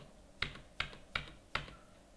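Four crisp keyboard keystrokes, evenly spaced and close, clicking alone in a quiet room.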